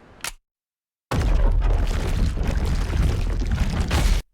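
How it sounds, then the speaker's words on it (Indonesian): A loud, sustained explosion rumbles in an anime about a kaiju whose insides burst, with a deep roaring blast lasting about three seconds after a short sharp sound and a gap of silence. "Organ dalam Honju meledak"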